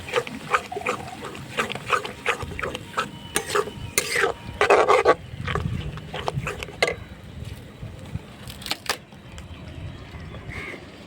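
Bangladeshi-style shrimp bhuna is stirred in a pan close up, with loud bursts of spatula scraping and clattering against the metal over a soft sizzle. The stirring thins out toward the end.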